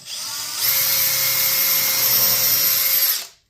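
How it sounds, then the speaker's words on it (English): Power drill spinning a finish nail used as a bit through a piece of wood, a steady whine that starts after a brief lead-in, holds for about two and a half seconds, then winds down. "Drill your hole."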